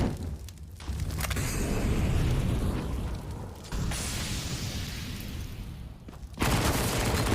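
Rapid bursts of MP9 submachine gun fire during a Counter-Strike match on Dust 2, loud and dense, with sustained rattling volleys that break off briefly before a fresh burst resumes near the end.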